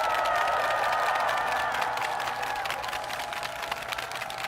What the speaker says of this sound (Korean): 큰 박수로 격려 부탁드립니다.